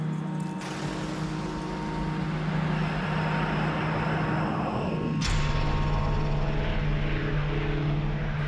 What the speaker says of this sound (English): Ox Cart was the world's first stealth plane, designed to be nearly impossible for enemies to detect on radar.